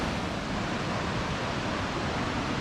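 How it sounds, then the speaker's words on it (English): Little River in the Great Smoky Mountains rushes steadily beside a hiking trail, a dense, even, broadband roar of flowing water that is close and continuous with no voices. "The Little River is so peaceful."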